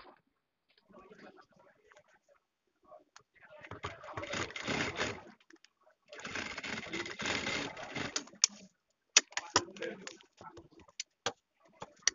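A sewing machine stitches piping onto a kameez neckline in two bursts of whirring, each lasting about two seconds, followed by a few sharp clicks and taps.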